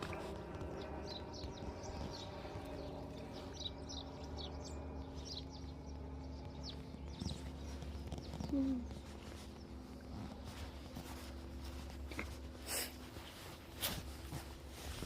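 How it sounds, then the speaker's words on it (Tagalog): Many small birds chirp and tweet in scattered, faint bursts outdoors on a walk, over a low steady background hum. "Ayan, ang daming ibon."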